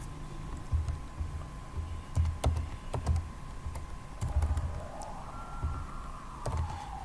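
Package names being typed on a computer keyboard, a close run of irregular clicky keystrokes with brief pauses, with a faint rising tone in the background and no talking.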